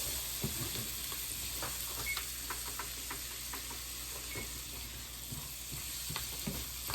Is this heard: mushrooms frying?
yes